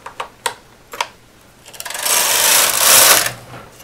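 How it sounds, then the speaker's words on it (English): A knitting machine carriage is pushed across a row after a few sharp clicks, giving a loud, close rushing clatter that swells and fades over a second or two. "thread the machine, and knit to the left"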